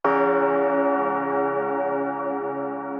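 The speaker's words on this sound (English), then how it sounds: "a church bell that I got from the Kashmir pack." One church bell sample from the Kashmir pack, used as a hype element in a hip-hop beat, strikes once loudly and rings out with a long, slowly fading metallic tone, heard alone.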